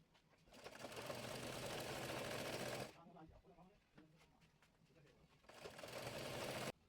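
A sewing machine stitches a fabric ruffle for a baby top in two loud, steady whirring runs, with a quieter pause of fabric handling and clicks between them.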